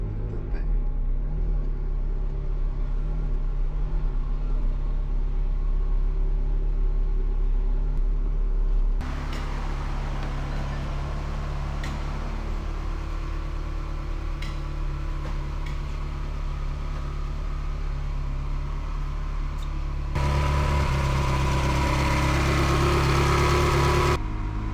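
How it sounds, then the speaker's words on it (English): A Ferrari engine rumbles steadily as the car is driven into a garage bay, a continuous low drone that shifts character partway through and grows rougher and louder near the end. "driving the car into the bay"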